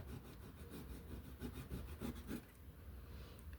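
Purple crayon rubs across a kawaii coloring page with quiet, rhythmic back-and-forth scratchy strokes, close and faint, then the strokes stop near the end.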